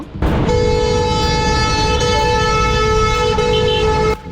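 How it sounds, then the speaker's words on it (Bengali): A vehicle horn on a street blares in one loud, sustained blast lasting about four seconds, close and dominating, with faint traffic noise before and after. "আর এখানে এমন হর্নের শব্দ"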